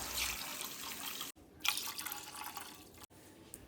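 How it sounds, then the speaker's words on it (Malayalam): Water poured into a hot pan of ground fish curry masala for kilimeen (threadfin bream): a bright splashing pour near the mic, broken by two brief silent gaps, then a softer trickle. "പാകത്തിന് വെള്ളം ഒഴിച്ചു കൊടുത്ത് നന്നായിട്ട് ഇളക്കുക"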